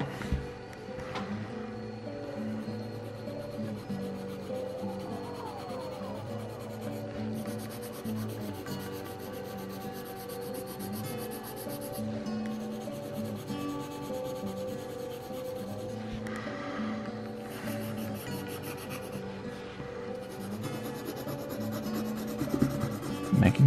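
A sharp graphite pencil shades on drawing paper, with continuous close, scratchy rubbing strokes that rise and fall slightly in intensity over a long stretch, with no talking.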